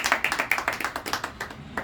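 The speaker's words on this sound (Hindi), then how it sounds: "आप लोग तालियां बजाओ, जोरदार तालियां।" Audience clapping at an RCM training program in a Bhitarwar shopping center hall, a fairly sparse group of hands giving distinct, uneven claps that pulse steadily for a couple of seconds with no voices.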